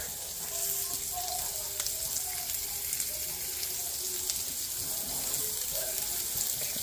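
Celery cooks in a pan with a faint, steady sizzle and light frying crackle throughout, quiet and continuous with no voices.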